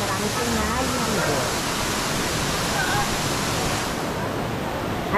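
Kaunawan Falls in Baler, Aurora, pours as a constant, loud broadband rush of falling water, steady from start to finish with no pauses.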